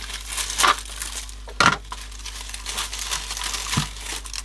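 Videotape from a JVC GR-AX200E camcorder being pulled and crinkled, close rustling and crumpling with a few sharper crackling bursts, no voices.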